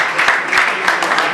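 A studio audience applauds at the grand finale of a reality TV show, a steady, dense round of clapping lasting the whole moment without a break.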